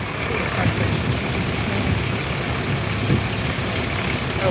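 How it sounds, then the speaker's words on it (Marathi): A tractor engine runs steadily with a low, continuous rumble from start to finish. "हे बघा दोन ट्रॅक्टर"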